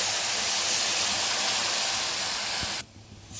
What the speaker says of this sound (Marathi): पाणी टाकलेलं